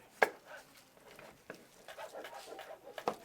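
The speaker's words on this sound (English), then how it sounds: "when I'm chopping the tomato" A knife chops a tomato on a cutting board, a few sharp taps spaced irregularly with a quiet kitchen between them, fairly close but not loud.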